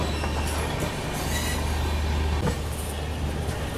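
A WAP-7 electric locomotive shunting near Madar Junction, a close, loud rumble of rolling wheels and rail clatter with brief squeals and knocks over about four seconds.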